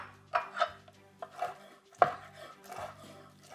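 A kitchen knife chops soft oil-marinated sun-dried tomatoes on a cutting board, several crisp irregular taps ringing out close and clear with no talk.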